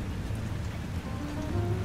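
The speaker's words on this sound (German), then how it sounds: "Und dann dieser Regen. Muss es denn immer regnen?" Steady rain falls in the night scene of a detective radio drama, a dense continuous patter that runs evenly throughout, with no voices.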